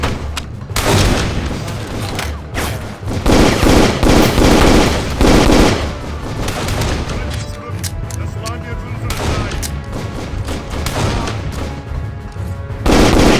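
Gunfire in a shootout in the video game Darkest of Days, with repeated loud bursts of rapid shots and heavy booming blasts that come in waves, and shouting voices heard between and over the firing.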